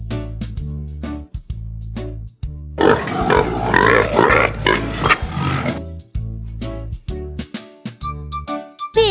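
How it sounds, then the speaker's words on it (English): Pig grunting and oinking in a children's farm animal sound lesson, a dense burst of rough snorts lasting a few seconds between cheerful background music. "Pig."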